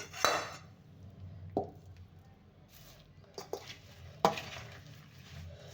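Oil is stirred into a bean pod pickle with a spoon, giving a few scattered clinks and scrapes against the container over a quiet background.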